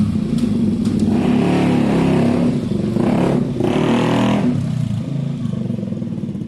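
A loud, close KTM 125 motorcycle with an aftermarket Black Widow exhaust rumbles and revs with a deep, throaty exhaust note, surging as it pulls away.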